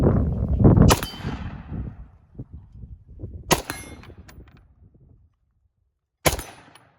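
An FN FS2000 rifle fires three separate shots, each with a sharp crack and a ringing metallic clang off a steel target, spaced a few seconds apart with quieter gaps in between.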